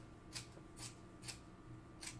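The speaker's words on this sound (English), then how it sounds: "I'm slowly trimming it out as I go along to save as much fur as possible for future projects" Scissors snip through faux fur while trimming a fursuit, four soft, evenly spaced cuts about half a second apart, faint and close against a quiet background.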